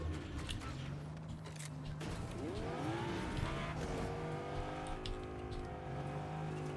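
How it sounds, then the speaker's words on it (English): A sports car driving in Fortnite, engine droning steadily throughout with rising and falling revs and pitch sweeps as it accelerates and shifts, loud and close with some clatter over the top. "You got a sports car, huh?"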